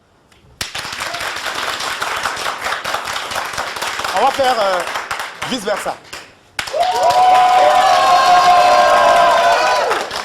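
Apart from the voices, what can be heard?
studio audience applauding and cheering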